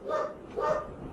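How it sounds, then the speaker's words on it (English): A dog barks twice in a row, short muffled woofs from across an indoor room, heard alone at moderate volume. "Sorry about the dogs, guys."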